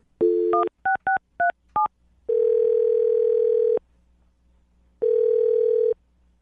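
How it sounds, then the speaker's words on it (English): Touch-tone dialing of a phone number: a steady opening tone, a quick run of short DTMF beeps, then two long ringback tones separated by silence, clear and close with no talking. "I'm going to dial his phone number right now."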